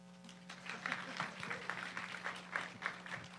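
Audience applause at a security conference keynote in Vancouver, a steady patter of many clapping hands that continues for several seconds over a low room hum.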